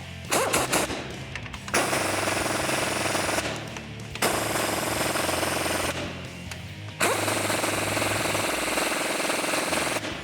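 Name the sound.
impact wrench with 19mm socket tightening Jeep suspension bolts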